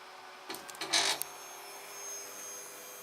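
A Protomaker 3D printer with a damaged stepper motor lowers, giving a quiet mechanical whir and a short burst of motor buzzing and clicks before a low steady hum.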